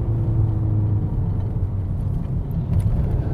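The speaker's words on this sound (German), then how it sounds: "kann hier schön dieses Auto ausnutzen, wie es gemacht wurde, nämlich zum sportlich Fahren" A 2022 VW Golf R driven hard around corners on a track gives a loud, steady engine rumble with a low droning whir that holds constant throughout.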